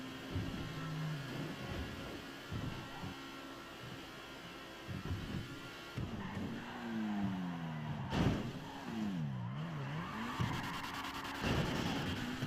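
BMW M5 E39 engine in GTA V, a steady car drone with revving pitch sweeps rising and falling, fairly loud and continuous, with game sounds layered on top.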